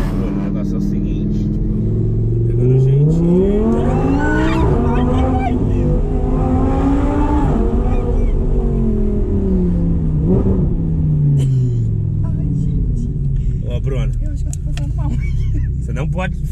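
An Audi R8 accelerating and revving hard, its engine note climbing and falling in long sweeps, loud and close throughout with voices talking over it.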